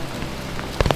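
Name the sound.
hail falling on an iron bridge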